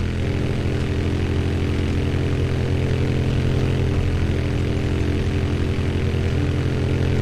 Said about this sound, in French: le bruit de la moto, c'est comme si elle passe pas la vitesse